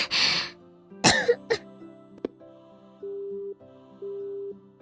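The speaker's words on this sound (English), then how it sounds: "hangs up in the middle of her coughing fit" A woman coughs and clears her throat in a short burst of harsh, close coughs, then a faint beep and steady electronic tones follow as a call ends.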